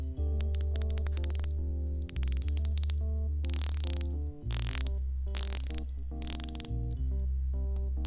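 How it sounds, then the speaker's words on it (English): A Zenea Ula diver watch bezel is turned in bursts of rapid, crisp clicking ratchet steps, close and loud, separated by short pauses over a low steady hum; one brief spoken remark. "Let's take a look at the bezel action and take a listen."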